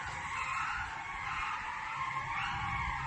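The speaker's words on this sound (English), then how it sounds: "What you're hearing is the back car's wheels." A car's wheels scraping and grinding steadily on pavement while another car tows it out of a parking spot, a continuous broadband rasping noise holding level throughout.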